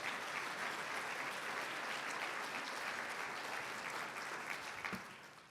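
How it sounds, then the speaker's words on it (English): Steady round of applause from the audience at an awards ceremony, a dense wash of clapping from many hands, fairly distant and quiet, tapering slightly at the end. "And a round of applause for all our proud supporters there."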